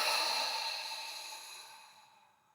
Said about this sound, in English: Nice big inhale.